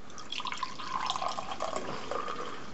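Bud Light Lime Mang-O-Rita pours steadily into a glass with a gurgling, splashing flow, close and moderately quiet, no voices.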